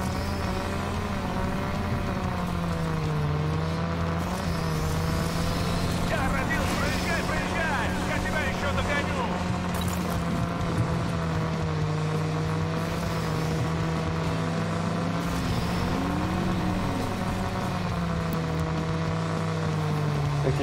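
A car engine drones steadily while driving in the video game RAGE 2, a sustained mid-level hum with slight pitch shifts, running throughout as someone talks over it at times.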